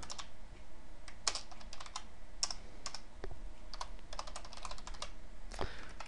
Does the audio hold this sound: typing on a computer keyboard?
yes